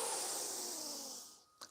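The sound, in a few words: strong exhale through the mouth during yoga breathing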